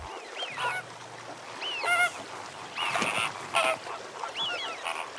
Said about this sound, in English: greater flamingos are among the earliest visitors every winter